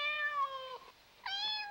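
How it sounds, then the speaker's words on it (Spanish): A cat in an animated Spanish-language learning show meows twice, two clear drawn-out tonal cries separated by a short pause, moderately close with no talk. "¡Un gato!"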